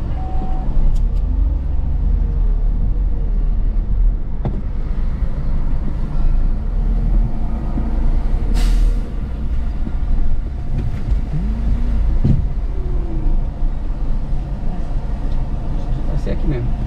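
A car is eased into a parking space at a roadside restaurant stop on the BR-116 in Milagres, Bahia. A low, steady engine rumble runs throughout while people talk over it.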